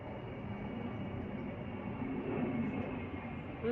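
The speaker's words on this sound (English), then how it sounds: "That's a plane going by." An airplane passes overhead as a steady, distant broadband roar that swells slightly and then holds, faint and continuous with no one speaking.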